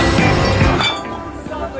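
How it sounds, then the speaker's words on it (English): A glass cup slips and shatters at a backyard party: a loud, close crash with bright clinking fragments in the first three-quarters of a second, followed by fainter scattering tinkles as the pieces settle. "When a glass cup slipped and shattered, Stefani's heart skipped."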